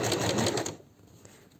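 Sewing machine running fast with a quilting guide, a dense rapid stitching whirr that is steady and close for under a second, then stops and leaves only faint room noise.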